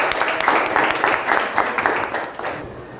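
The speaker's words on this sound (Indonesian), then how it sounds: "Ya, tepuk tangan untuk kita semua." A classroom group claps together for a few seconds, a dense, steady applause that thins slightly toward the end, with voices faintly mixed in.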